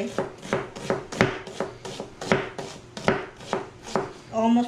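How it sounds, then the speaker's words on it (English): A knife chops an onion on a cutting board in a steady run of about a dozen crisp, evenly spaced strikes, close by, with a brief rustle at the end and no talking. "Everybody knows, except for me, how to cut an onion."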